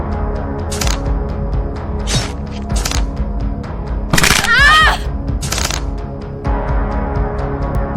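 A bow snaps during a battle in a Hindi film, a few sharp cracks and a loud splintering break amid a dramatic score, with rushing whooshes between hits.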